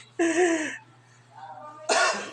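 A hoarse asthmatic cough sounds close by, followed by a softer breathy sound and then another harsh cough or throat-clearing burst.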